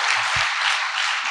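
Applause from a seminar audience, a dense, steady wash of many hands clapping together, loud and continuous for the whole moment, with no voices over it.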